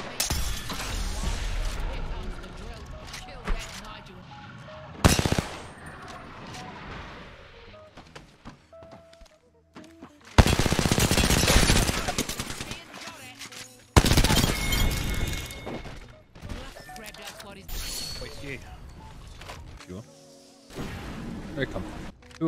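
Gunfire rips through an Apex Legends match, with dense bursts of rapid shots, loud near volleys broken by quieter gaps, and a player talking at times between the firing.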